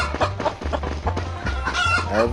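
Chickens cluck busily and repeatedly over a low steady hum, with quick overlapping calls in the video game Stickman Party.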